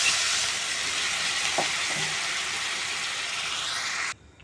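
Water poured into a pan of frying fish curry makes a loud, steady sizzling hiss close by that holds for about four seconds and then cuts off abruptly.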